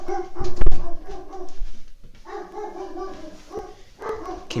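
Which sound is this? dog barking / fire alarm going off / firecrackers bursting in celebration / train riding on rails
dog barking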